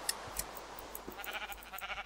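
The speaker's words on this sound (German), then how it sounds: "da ist noch ein Schaf." Sheep in a Minecraft-style video game bleat in short, wavering calls, a few quick bleats stacking up in the second half, moderately loud over faint background game noise.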